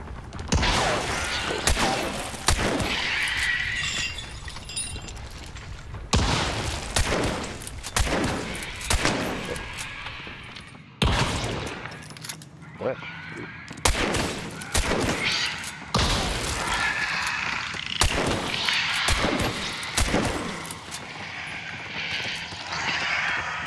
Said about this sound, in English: Get near a barrel, I'll shoot the barrel.